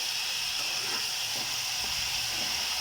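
Eggplant frying in a pan during home cooking, a constant bright hiss with faint stirring scrapes underneath, close and even.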